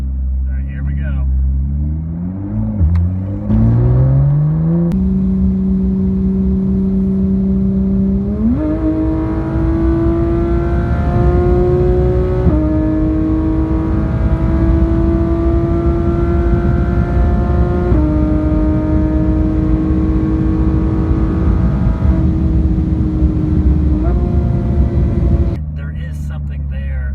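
Porsche 911 GT3 RS engine revving up through the gears in traffic, its pitch climbing in several distinct steps with short shift breaks, loud and close throughout before cutting off near the end.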